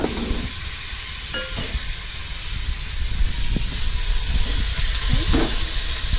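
Food browning in a frying pan on a home kitchen stove gives a steady, fairly loud sizzle and hiss throughout, broken by a few brief clinks and stirring noises.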